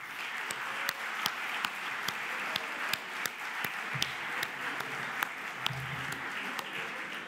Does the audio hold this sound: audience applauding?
yes